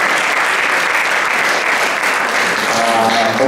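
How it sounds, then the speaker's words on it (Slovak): Steady applause from an audience at an award ceremony for children's artwork, a dense sustained clatter of clapping hands filling the room without a break. "A potlesk."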